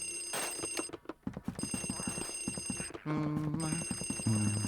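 A telephone rings repeatedly inside the haunted mansion of the Luigi's Mansion video game, bright clattering bell bursts repeating steadily over the game's background music, with a jingling tone continuing to the end.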